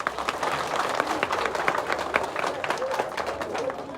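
Crowd applause at a welcome event for President Bio in Mafindor Chiefdom, Kono, a dense steady clatter of clapping from a large gathering, with voices mixed in throughout.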